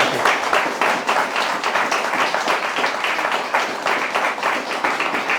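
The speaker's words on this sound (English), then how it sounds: "how about a little round of applause for our guests?" Studio audience gives guests a dense, steady round of applause at a police chief's community special, many hands clapping at once without a break for the whole stretch.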